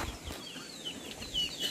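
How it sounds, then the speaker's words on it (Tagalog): Egg-laying hens clucking softly in a farm coop, a few faint, scattered clucks and rustles close by, with no one speaking. "yan, may nangingitlog na naman na manok"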